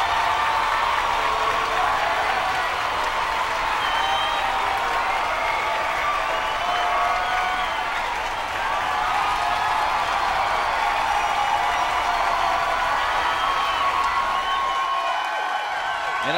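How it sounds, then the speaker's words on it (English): A big round of crowd applause greets a contestant at a craft beer contest and tasting, continuous clapping from a lively audience with scattered cheers and whoops, steady and full throughout before cutting off near the end. "Let's give him a big round of applause."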